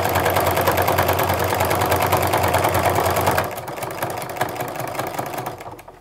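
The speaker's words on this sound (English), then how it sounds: "stitch down the raw edges of your binding strip, even with the edges of the raw edge of your rug" A sewing machine straight-stitches a binding strip onto a fabric jelly roll rug, a loud rapid even mechanical chatter close by that eases to a softer running hum near the end.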